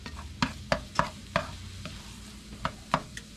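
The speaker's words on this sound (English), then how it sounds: "And let's stir that around." Eggs being stirred in a hot pan on the stove, a spoon or spatula scraping the bottom in a string of sharp, close clicks roughly every half second over a faint background hiss.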